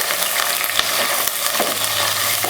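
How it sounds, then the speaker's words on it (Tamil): Onions and slit green chillies sautéing in a pan give a steady close sizzle and frying crackle, with faint stirring scrapes and no talking. "பச்சை மிளகாயை கீறிட்டு சேர்த்துக்கோங்க. இதை வதக்கிக்கலாம்."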